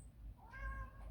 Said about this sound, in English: That's my cat. He's yelling at me.